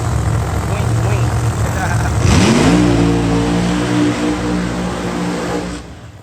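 A pro mod Corvette drag car at the IHRA Pro Mod Nationals roars off the line, its engine pitch climbing sharply and holding at a loud, sustained scream before fading, with a commentator talking over it.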